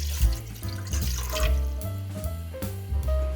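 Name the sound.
water being poured into a cooking pot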